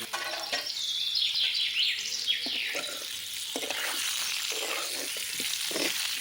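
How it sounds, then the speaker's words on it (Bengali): Potatoes fry in oil in a wok: a moderate crackling sizzle with intermittent bursts of stirring and scraping, while faint bird calls chirp in the background. "রান্না শুরু হবে এই জন্য আগে কড়াইতে আমি আলুটা ভেজে নিচ্ছি"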